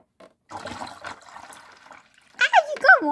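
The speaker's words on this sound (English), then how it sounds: "Water on my legs." Water splashes and sloshes in a toy fish tank in short bursts, with children's voices chattering over and after it.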